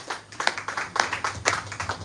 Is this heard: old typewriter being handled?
no